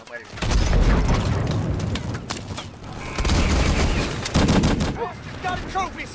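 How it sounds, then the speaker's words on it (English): Rapid automatic gunfire from a gun in Call of Duty: Advanced Warfare, loud and close, in sustained bursts with short pauses and booming impacts, with no talk. "I didn't know this gun pops severely"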